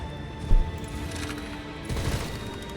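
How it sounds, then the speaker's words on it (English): Gunfire rattles through a mine in the video game Punishing: Gray Raven, with a stuttering burst of shots, a heavy thump, and dull echoing reverb over a dense game soundscape. "The stutter of gunfire echoes dully through the mine."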